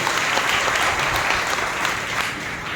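A church congregation at a Sunday service claps together in steady, dense applause that stays loud and close throughout, then eases slightly near the end.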